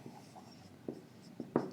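A marker or pen writing numbers on a board during a centroid lecture, a few soft scratchy strokes in short bursts, faint and close.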